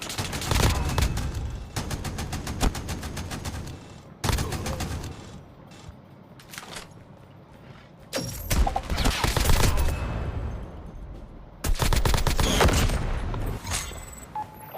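Rapid bursts of automatic gunfire and heavy shot volleys from a Call of Duty Mobile battle royale match, loud and dense with brief pauses between bursts and a faint voice underneath.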